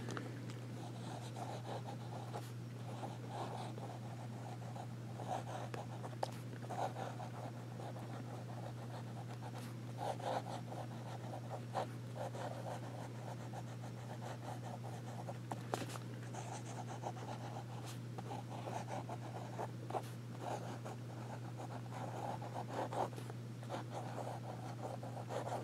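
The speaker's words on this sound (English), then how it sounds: "now we'll do some writing" A Jim Hinze Beacon 2 fountain pen scratches lightly across paper in short strokes and swirls, faint and close, over a steady low electrical hum.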